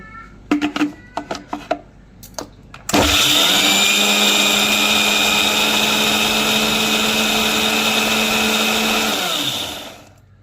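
A few knocks and clicks lead into a mixer grinder roaring loudly and steadily for about seven seconds as green chillies are ground into paste, then it winds down.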